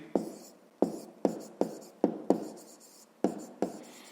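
Handwritten maths figures being jotted down, a series of sharp pen-on-paper strokes and taps in an irregular rhythm, close and fairly quiet, with no voice over them.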